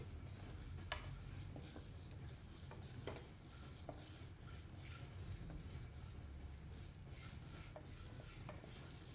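Cumin and coriander seeds fry in a hot pan, a steady crackling sizzle with scraping stirs and occasional light clinks of a spoon against the pan, close and continuous with no voices.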